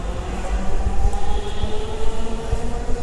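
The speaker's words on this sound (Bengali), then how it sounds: "এই মেট্রো রেল চলে যাচ্ছে" A metro rail train passes close by, a loud, steady low rumble of wheels on track with a faint metallic squeal above it, continuous for the whole stretch.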